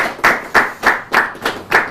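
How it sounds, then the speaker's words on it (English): Audience applause at a church Bible quiz contest, heard as six evenly spaced bursts of clapping, each swelling and fading within a couple of seconds in a rhythmic pattern. "So a round of applause for Simon."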